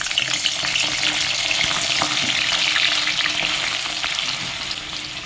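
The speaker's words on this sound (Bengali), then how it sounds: "সয়াবিনগুলো ভাজা হয়ে গেছে" Soaked soya chunks fry in hot oil in a kadai with a loud, continuous, close sizzle and crackle that holds steady throughout.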